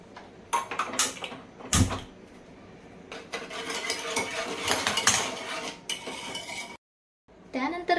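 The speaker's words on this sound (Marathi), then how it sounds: "छान प्रकारे मिक्स करून घ्यायचं आहे" A spoon stirs and scrapes a hot chocolate mixture of milk in a metal pan on a gas stove, a busy, continuous clatter of metal on metal, close and fairly quiet, with a brief silent gap near the end.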